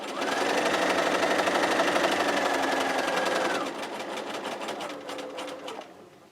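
A sewing machine stitches a quilt at close range in a fast, even mechanical whir, pauses briefly, then runs again in a shorter burst before stopping.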